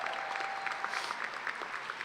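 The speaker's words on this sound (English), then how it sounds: "give her a round of applause" A round of applause at a medical college hooding ceremony, steady crowd clapping heard from a distance and holding evenly from start to finish with no talk.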